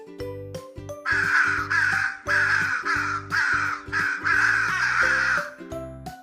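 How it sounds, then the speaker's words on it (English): A crow gives a series of harsh, rasping caws, about six or seven loud, close calls in quick succession, set over a light musical backing with no speech. "What sound does a crow make?"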